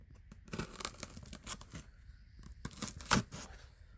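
Cardboard of a small box package being worked open with one hand, a run of scraping, tearing rustles and shuffling crinkles, close by, with one sharper rip near the end.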